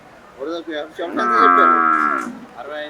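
A Solapur buffalo at a livestock market in Erragadda gives a loud, close, drawn-out moo, preceded by a couple of short grunting calls and followed by a brief trailing call.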